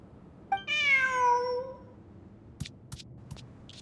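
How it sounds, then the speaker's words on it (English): A video game cat gives one clear, drawn-out meow with a rising then falling tone, loud and close, followed by a few soft short clicks. "Who's a good kitty?"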